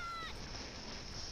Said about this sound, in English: Noisy cat.